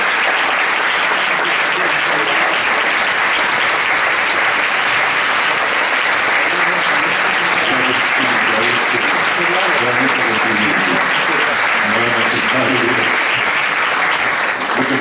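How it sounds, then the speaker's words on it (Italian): At an opera scenes evening in a theatre, the audience bursts into sustained, dense applause, a steady loud wash of many hands clapping with faint crowd voices mixed underneath throughout. "un applauso a Maurizio Morano"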